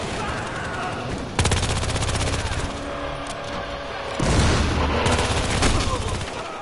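Gunfire in the video game Battlefield Hardline: dense, rapid automatic shots rattle continuously and loudly, with a heavier burst partway through and a busy, noisy game backdrop.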